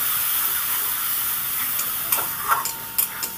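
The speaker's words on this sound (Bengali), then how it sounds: "সামান্য জল দিয়ে মশলাটাকে আমি সুন্দর করে কষিয়ে নেব।" Spice paste with a little water cooking down in a pan for a prawn and okra dish, a soft steady hiss and sizzle with a few light spatula clicks toward the end.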